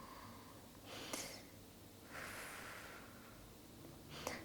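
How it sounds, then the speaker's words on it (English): Three deep breaths in a yoga hip stretch, each a soft airy rush about a second long, close and faint against steady background noise, without speech. "take a few breaths here"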